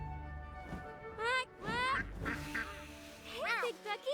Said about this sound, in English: Hey, Big Ducky. Over here. I got some food for you.